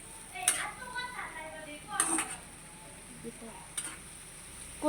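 Taro stolons (kochur loti) stirred in a pan at home, giving a soft sizzle with a few sharp clinks of the utensil against the pan and light scraping strokes, close by and fairly quiet.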